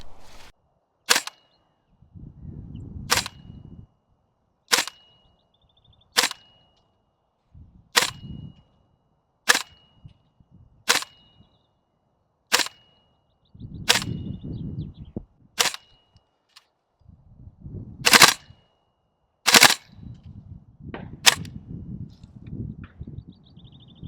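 Tokyo Marui MWS and GHK gas blowback airsoft M4 rifles fire about fifteen sharp, crisp single shots, spaced a second or two apart and close, with low murmured talk and handling noise in some of the gaps.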